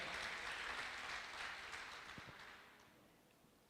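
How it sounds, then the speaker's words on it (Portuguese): A church congregation claps together in a dense, steady wash of applause that slowly thins and fades toward the end. "dê um aplauso a Jesus."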